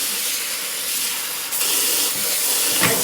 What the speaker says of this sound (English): So just rinse it a couple times, throw it right into the sink